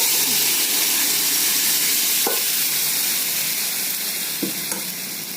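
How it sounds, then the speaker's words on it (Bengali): Chana dal with potatoes hits a hot pan and sizzles loudly and evenly, a dense close frying hiss with a couple of soft knocks and a slow fade toward the end. "ডাল ঢেলে দিচ্ছি"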